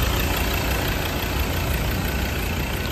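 A 3.2-liter diesel engine in a 2017 Ford Ranger pickup idles steadily, a loud, close, even rumble with a constant rattle and no voices.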